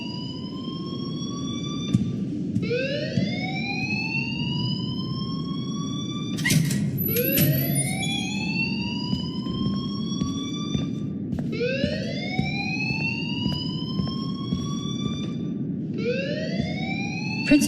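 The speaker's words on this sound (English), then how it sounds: "please turn off that alarm" A school alarm rings in the Life is Strange video game, a rising electronic whoop repeating about every five seconds, steady and fairly loud over a low background hum.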